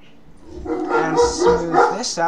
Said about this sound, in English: Sorry about that, guys, that's my dog barking.